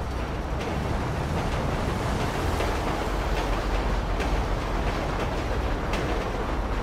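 A train passes by in GTA 5 Online, set in snow. Its steady, loud rumble and rail clatter fill the whole stretch, with rhythmic clicks over broadband noise. No one speaks.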